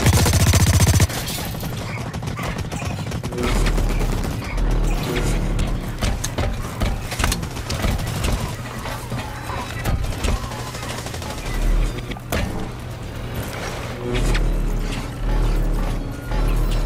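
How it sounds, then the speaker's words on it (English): Rapid submachine gun fire in the online shooter Blacklight: Retribution, dense bursts of automatic shots over continuous game sounds and mechanical clatter, loud and steady throughout with brief pauses. "So I'm just gonna try the SMG and see how many kills I can get for it."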